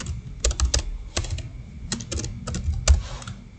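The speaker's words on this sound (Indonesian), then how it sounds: "Baru kita bisa ketikkan hobi kita di bagian kotak yang" Keystrokes on a computer keyboard while a web form is filled in, coming in quick bursts of clicks with short pauses between them, close and moderately loud, with no voices.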